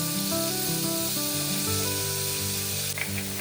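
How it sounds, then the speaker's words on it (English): Chopped mushrooms sizzle in melted butter in a hot pan, a steady, loud frying hiss that continues throughout under soft background music. "heat a pan and melt a knob of butter. Add 2 cups of washed and chopped mushrooms."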